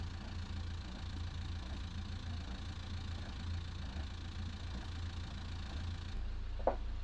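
Boat inboard engine idling steadily during freshwater flushing after a fishing trip, a low constant drone at moderate distance with no talk, with a brief clunk near the end.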